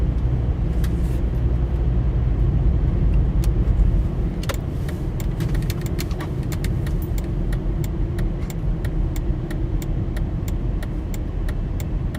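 A car drives steadily through patchy, localized fog, its low engine and road rumble constant throughout, with a slight drop in level partway and faint intermittent clicks or ticks above the drone.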